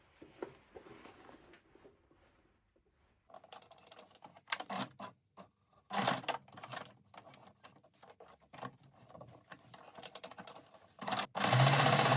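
Sewing machine stitching a zipper onto wide-waistband pants, running in short bursts of rapid mechanical chatter separated by pauses and soft handling sounds, close and fairly quiet, with no talking.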